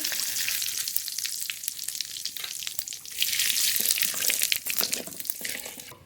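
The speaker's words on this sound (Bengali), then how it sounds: "মাংসের জন্য ফোড়ন করে নেব তেজপাতা গোটা জিরে" Bay leaf and whole cumin sizzle steadily in hot oil as a tempering for a chicken curry, a close, continuous crackling frizz that grows louder partway through, with no talking.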